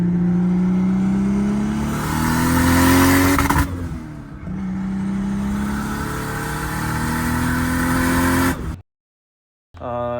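A car engine revs up close, climbing in pitch, then drops briefly at a gear change and climbs again before cutting out near the end.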